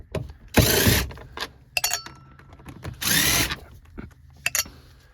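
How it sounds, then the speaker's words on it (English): A power driver spins out four screws from the sill plate of a 3rd generation Toyota 4Runner, two longer whirring bursts amid clicks, handling noises and short ratchety spins, close up and without speech. "we're going to go ahead and start by removing the 4 screws in the sill plate"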